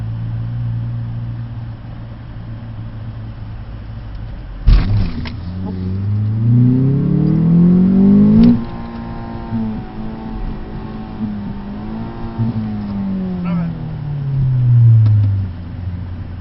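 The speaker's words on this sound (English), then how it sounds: "we have to do one little rev. Then we'll do a burnout." A 2012 Ford Focus SE with a manual gearbox idles loudly, then its engine revs up sharply, rising and falling in pitch through a burnout, with a second climb near the end and no talk.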